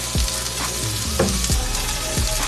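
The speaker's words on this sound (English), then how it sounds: "we're gonna let this saute a little bit on one side" Chicken pieces sautéing in oil in a pan for low-carb gluten-free fried chicken, a loud close steady sizzle with a few thuds and scrapes of stirring, no speech.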